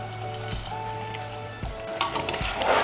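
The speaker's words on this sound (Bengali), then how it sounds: "চিনিটাকে মিশিয়ে নেব।" A spoon stirs a little sugar into chicken curry that is sizzling in oil in a pan. Steady frying crackle runs under several clear metallic scrapes and clinks against the pan, close up with no talking.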